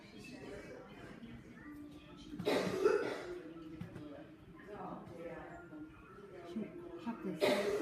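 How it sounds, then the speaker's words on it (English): A woman in a hospital coughs in a few harsh, wheezy bursts that sound asthmatic, loud and close, separated by quieter breathing and low voices talking nearby. "She had this cough not long ago as well. Sounds a bit asthmatic-y actually."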